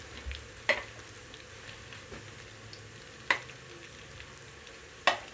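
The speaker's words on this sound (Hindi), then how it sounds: "हमारा प्याज ब्राउन हो रहा है।" Onions frying until brown for a village-style moong dal, a low, steady sizzle in the pan broken by three sharp clinks of a utensil striking the vessel, spaced a few seconds apart.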